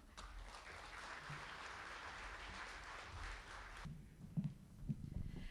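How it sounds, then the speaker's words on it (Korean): Audience at a book concert applauds to welcome a soprano, a faint, steady spread of clapping that thins after a few seconds, giving way to low, scattered room sounds. "여러분 뜨거운 박수로 환영을 해 주십시오"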